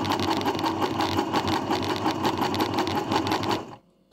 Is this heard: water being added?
no